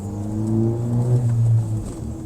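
A Ford Focus ST engine idles and revs close up, a deep steady hum that swells with a couple of throttle blips before settling back to idle, with no voices.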